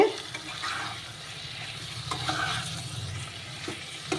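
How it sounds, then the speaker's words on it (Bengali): Spice masala fries in oil for a hilsa fish curry with potato and eggplant, giving a soft, steady sizzle while a spoon stirs and scrapes the pan in a few quick strokes. "মশলাটা একটু ভাজা হোক"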